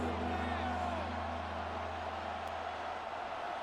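Stadium crowd noise in the Madden NFL 26 football video game during a Dallas Cowboys vs Detroit Lions matchup: a steady, dense roar that holds at an even level for the whole stretch, filling the background.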